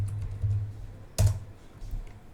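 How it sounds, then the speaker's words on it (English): Keystrokes on a computer keyboard typing into the Windows search bar, a few soft clicks with one sharper tap in the middle, close and fairly quiet. "type your control panel"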